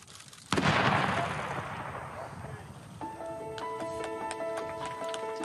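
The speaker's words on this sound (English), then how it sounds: "Firing!" A ceremonial gun salute fired at a royal event: one loud, booming blast that rings out and decays over a couple of seconds, followed by a steady band of tones and background noise from the outdoor crowd.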